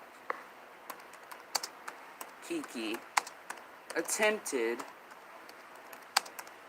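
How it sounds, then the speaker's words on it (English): Computer keyboard typing, with sharp individual key clicks at an irregular pace throughout, close and fairly loud, while a voice speaks briefly in the middle. "this is me typing. You hear the keys?"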